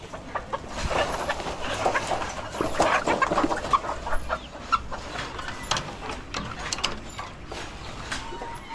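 Laying hens cluck at a nesting area lined with straw, giving a near stream of short, irregular clucks and squawks with faint mechanical knocks in the background.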